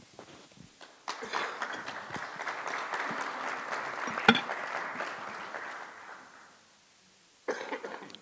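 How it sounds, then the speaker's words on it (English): Applause from a panel discussion audience on intellectual property and plant varieties: a broad, sustained mid-level patter of clapping that builds, holds for several seconds, then fades, with scattered coughs and a fresh burst near the end. "we'll all take that applause as applause for all three, not just Micha"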